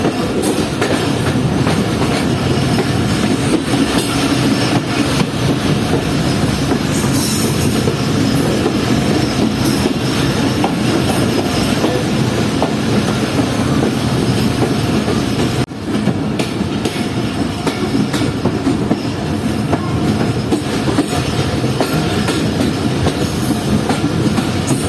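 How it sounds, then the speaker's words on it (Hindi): A ZCU 6312 locomotive pulling an Awam Express train into Padidan Junction railway station, a continuous loud rumble of wheels on track with rhythmic clickety-clack and faint squeals, heard from inside a carriage. "हमारी ट्रेन अब पहुंच रही है पडीदन जंक्शन रेलवे स्टेशन पर ZCU 6312 के साथ।"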